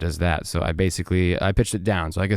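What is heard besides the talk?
None of the usual background noises is heard.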